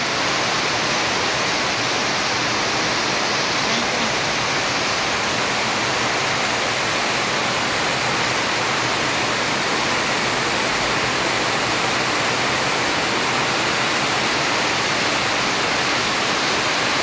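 Heavy rain pours down steadily and loudly outdoors, a dense continuous hiss with no break and no voices.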